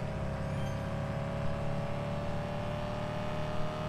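Car engine in the Autohaus Simulator dealership game, a steady droning hum with a faint rise in revs, moderately loud and continuous, with no speech over it.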